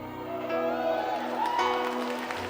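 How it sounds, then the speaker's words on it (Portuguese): A church congregation applauds together during a sermon, a steady wash of clapping with some crowd noise and faint cheering that holds for a couple of seconds without clear speech. "Aplauda o Senhor"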